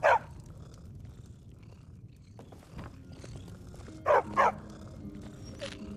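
Meeko the dog barking in Skyrim: one sharp close bark at the start, a quiet stretch, then two quick barks in succession and a softer yip near the end.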